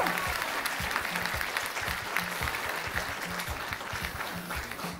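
Sustained audience applause at a stage event in a cultural centre, dense and steady for the full five seconds, with faint voices in the crowd and no clear speech.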